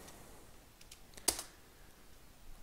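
A few light keystrokes on a computer keyboard, with one sharper, louder click near the middle and faint taps around it, close and alone in a quiet room.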